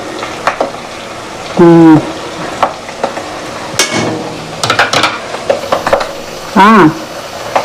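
Crackling sizzle of frying in hot ghee, with scattered pops, stirring clinks and a couple of brief tonal squeals over the bubbling.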